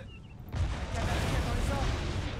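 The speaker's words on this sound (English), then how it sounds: "we've actually taken out about almost 15 of them here just from the cannons" Cannon artillery fire in Napoleon: Total War, a dense rumbling barrage of booms kicking in after a quiet half second and rolling on continuously and loudly to the end.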